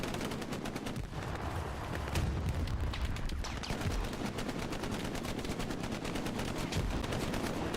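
Rockets firing and bursting during a competitive Hell Let Loose match, heard as a dense, continuous barrage of sharp cracks and booms mixed with rapid gunfire, loud and unbroken throughout.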